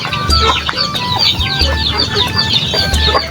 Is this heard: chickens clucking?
yes